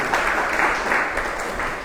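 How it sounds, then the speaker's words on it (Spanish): An audience at a Sunday Hare Krishna class gathering claps steadily in welcome of a first-time visitor, a dense, moderately loud patter of many hands. "Un aplauso para ella."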